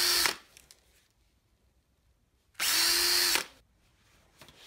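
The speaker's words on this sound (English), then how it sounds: "I used an 11/64 inch bit to widen the holes for the number 8 screw." Two short bursts of a power drill widening holes in wood with an 11/64 inch bit, a high whining spin up close separated by a quiet gap.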